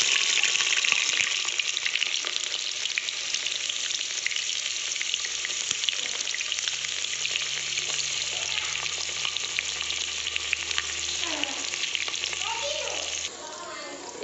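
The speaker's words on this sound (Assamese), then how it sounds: "এইফালে ইয়াত পিঁয়াজখিনি এতিয়া ভাজি লৈছোঁ।" Onions sizzling in hot oil inside a pressure cooker with cloves, cardamom, peppercorns and bay leaf, a steady close frying hiss throughout with faint occasional stirring, no talk.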